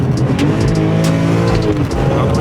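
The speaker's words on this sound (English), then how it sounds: "It instantly rev matches as I'm going down." BMW E46 M3 with a CSL-flashed gearbox map blipping its throttle on a downshift, the engine snapping up in revs loud and close, with brief tire-like squeal and a steady engine drone throughout.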